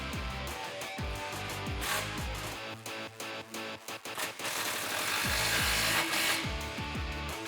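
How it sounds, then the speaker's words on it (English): Power tool tightening an exhaust clamp on a 2019-2021 Silverado 1500 5.3L with a Flowmaster FlowFX exhaust, heard as repeated bursts of whirring impact-driver rattle with short pauses between them. "now we can come back and tighten down that clamp"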